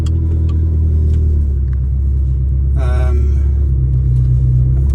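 A manual Ferrari 360 Spider drives with a continuous loud engine rumble and a steady low drone, with a short brighter revving burst around the middle and no talking.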